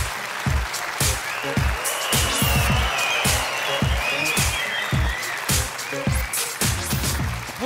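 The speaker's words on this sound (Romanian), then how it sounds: "să o primim cu aplauze pe Bianca Sasu!" Rhythmic clapping from an audience, steady and fairly close, filling the whole stretch without voices.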